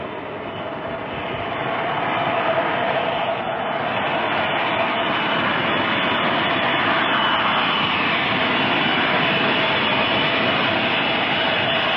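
Steady broadband roar of a Boeing 707 jetliner in flight, Air India flight AI-1068, a constant loud cabin drone with a faint tonal hum, unbroken throughout with no voices.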